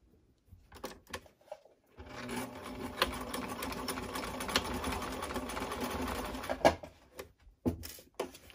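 A sewing machine stitches a seam on a pair of boxers, starting after a few soft handling taps and running as one steady mechanical whir for about five seconds before stopping, followed by a couple of brief clicks and rustles.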